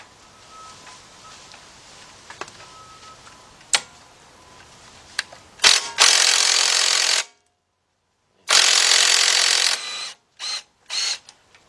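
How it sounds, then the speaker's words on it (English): A 1/4-inch impact driver or 3/8-drive ratchet works on a 13 mm control arm nut of a GM SUV such as a Trailblazer or Envoy: light ticks, then two loud buzzing bursts and a few short ones, close by. "get your little quarters impact or your 3/8 drive ratchet, and you want to take off this nut"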